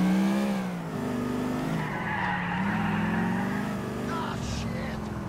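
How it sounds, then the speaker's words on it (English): Taxi drifting in Grand Theft Auto 4, its tires skidding and squealing in a long, loud continuous screech over the engine note, wavering in pitch across the slide. "Hey, this taxi can drift."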